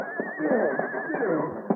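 A horse neighs in a 1938 Lone Ranger radio drama sound effect, a single wavering whinny lasting under two seconds, with faint hoof-like knocks around it.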